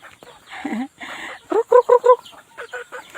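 Chickens clucking in short bursts, a quick run of four sharp clucks in the middle, with softer clucking and murmuring around them, fairly close.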